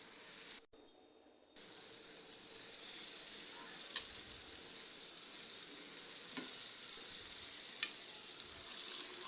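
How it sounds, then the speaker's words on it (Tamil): Squid (kanava fish) sizzles steadily in hot masala in a pan and is stirred, with a constant frying hiss and a few faint scrapes of the spoon. "கனவா மீன், இதை நாம் இதில் போட்டு நல்லா பிரட்டி விட்டுக்கலாம்"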